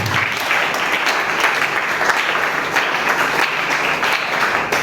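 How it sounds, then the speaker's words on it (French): A church congregation at a French-speaking worship service breaks into sustained, dense applause and cheering for the Lord, the clapping steady and loud for several seconds with no talk over it. "Est-ce qu'on peut acclamer pour la Seigneur?"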